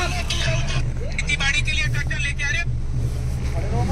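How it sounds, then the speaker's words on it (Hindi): Heavy road traffic in a jam in Bareilly, with a constant low rumble of idling engines and brief louder tonal bursts over it, while people talk nearby. "गाइस तगड़े जाम में फंस चुके हैं भाई, बहुत तगड़ा जाम है।"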